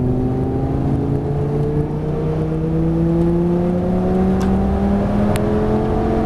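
A Lamborghini Gallardo accelerating on the Nogaro race track, its engine a loud, close, steady drone that climbs slowly in pitch across the whole stretch.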